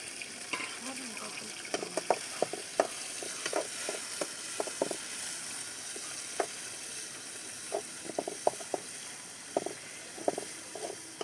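Tomatoes stir-fry in a pan over a wood-fired stove, giving a faint, low sizzle broken by scattered scraping taps of the stirring spoon, with a quiet voice talking over it now and then.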